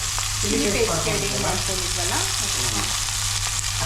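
Chili paste made from soaked Byadgi chilies sizzling and frying in a pan, a steady close crackle with occasional stirring and faint talk underneath.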